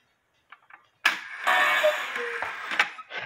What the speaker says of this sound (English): that's why you are hearing this clicking noise.